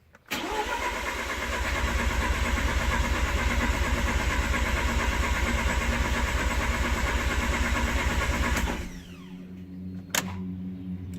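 A Mazda RX8 rotary engine cranks on its starter with the throttle held wide open, giving a steady, loud, fast pulsing churn for about nine seconds before it cuts off, then some faint clunks and handling noise.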